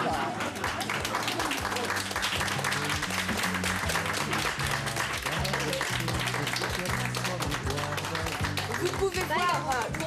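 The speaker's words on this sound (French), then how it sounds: "Taiga, nous applaudissons bien fort." Audience applause at a fashion show, continuous clapping heard under a voice that talks throughout.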